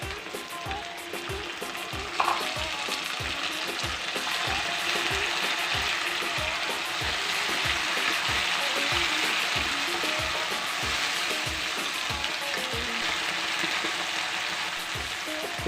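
Tomato paste sizzles and fries steadily in a pan of mixed vegetables, a dense, continuous crackle with regular soft stirring or scraping pulses throughout, fairly loud and close with no talking.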